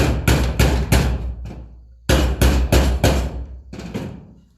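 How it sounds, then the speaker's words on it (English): Hammer strikes driving nails into a DIY hanging planter on a slightly bouncy surface, two bursts of three sharp close blows each, then a single final hit, loud and alone. "keep hammering them in"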